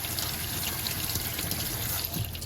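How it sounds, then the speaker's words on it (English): Steady running tap water pouring over thawed shrimp being rinsed in a kitchen, a continuous close hiss with no voices. "I'm going to drain them, and I will rinse them"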